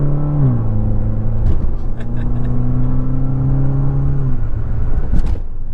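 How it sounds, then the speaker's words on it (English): A Fiat 500c Abarth engine with a smooth exhaust note holds a steady drone, then its pitch drops as it revs down and settles near the end. "it's such a pure exhaust note"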